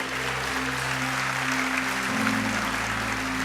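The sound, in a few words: church congregation applauding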